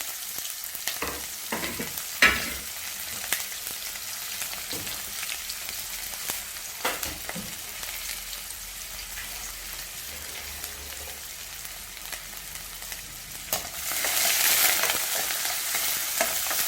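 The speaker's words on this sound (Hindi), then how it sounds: "प्याज को हम हल्का भुनेंगे, एकदम डार्क नहीं, डार्क ब्राउन नहीं, पिंकिश भुनेंगे।" Onions frying lightly in hot oil after mustard seeds, for baingan bharta, a steady close sizzle with occasional stirring clicks, swelling louder near the end.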